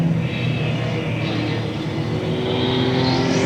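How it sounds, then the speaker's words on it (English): Pure stock race cars battle for position on an oval track in limited pure stock racing at Coastal Plains Raceway, engines roaring steadily and loudly throughout, a dense continuous rumble of several cars at once. "he's got a couple of cars battling for position now right in front of our leader, James Stroud."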